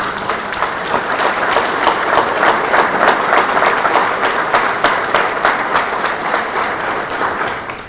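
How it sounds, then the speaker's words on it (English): An audience at the Kansas Sports Hall of Fame 2021 induction ceremony gives a big round of applause. The loud, close clapping is sustained and evenly paced throughout, with no talk over it. "I would love it if we could give her a big round of applause"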